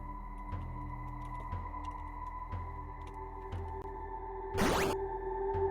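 A short game sound effect called air egg from a Lua-programmed game, heard as a brief bright burst with a quick sweeping tone near the end, over a steady electronic hum and faint periodic clicks.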